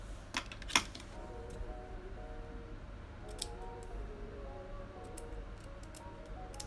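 Scissors snip straight across the lace of a wig in a few sharp, close clicks spread unevenly over a quiet background.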